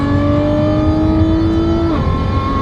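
A Lamborghini Revuelto engine, stuck in limp mode without full power, revs up loud and close with a rising tone, then drops sharply near the end.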